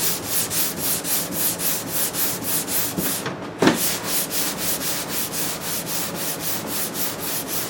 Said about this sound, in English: Lil Dirtbike, he's got some 220 grit on there. And what he's doing now, he's just sanding that down